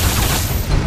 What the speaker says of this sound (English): How'd you like them grenades? 10 explosion kills.